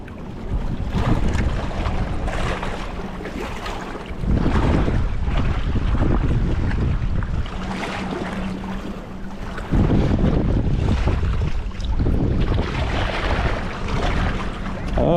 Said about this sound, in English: I turned my camera off because it was so windy